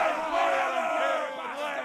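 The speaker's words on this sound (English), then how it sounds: "I think that deserves a cheer." Right after a birthday song, a small group cheers and shouts together in a short, lively burst of overlapping voices that swells and then eases off slightly.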